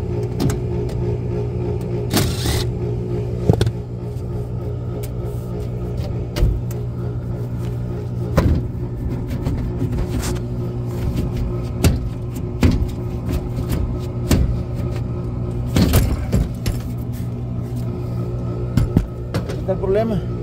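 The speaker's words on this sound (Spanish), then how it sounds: "Miren, el motor quiere correr y no corre." A furnace blower motor in a home heating unit that runs with a faulty condition, whirring steadily but laboring as it tries to start and stops, under a man's speech and occasional clunks.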